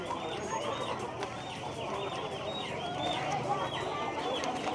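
Newly bought chickens cluck in a steady, continuous chorus at a poultry purchase, with busy farm-market noise and occasional voices mixed in.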